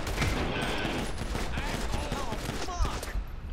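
Rapid gunfire from a firefight in the video game Grand Theft Auto V, a dense, continuous volley of shots filling the whole stretch at steady loudness, with a few sharper bursts near the end and a voice talking faintly underneath.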